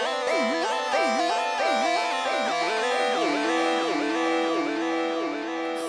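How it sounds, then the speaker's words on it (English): A synthesizer patch runs through a BBD delay with feedback, producing continuous gliding pitched tones whose echoes stack and repeat in a dense, even wash. "So by default, the effect here in an init patch is already the BBD."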